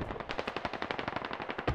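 Rapid automatic gunfire in the military video game Squad, a close, loud, continuous burst of evenly spaced shots with no talking.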